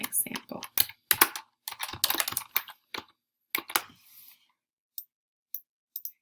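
Typing on a computer keyboard, with close, crisp key clicks in quick clusters that thin out into a few isolated taps near the end.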